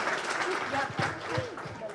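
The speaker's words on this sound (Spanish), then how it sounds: "Le damos aplauso" Moderate applause from participants in a training workshop on internal control and risk management rises briefly for a team's answer, with voices talking over the clapping.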